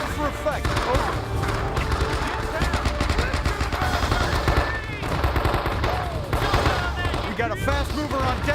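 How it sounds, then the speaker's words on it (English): Sustained machine-gun and rifle fire rattles through a firefight at a tree line in the video game Men of Valor, with dense overlapping bursts and heavy thumps, mixed with shouted voices throughout. "Get some cover and fire on the tree line."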